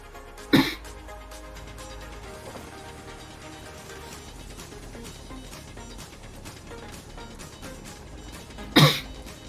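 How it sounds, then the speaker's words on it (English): A harsh cough bursts out near the start and again near the end, two loud separate fits over a steady low background hum with no talk. "That cough is something brutal."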